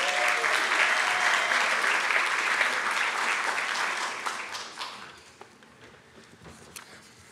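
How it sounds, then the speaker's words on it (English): A crowd at a 2023 educational leadership graduation claps steadily for a graduate, the dense applause holding for about four seconds before thinning into a few scattered claps. "Let's give him another round of applause."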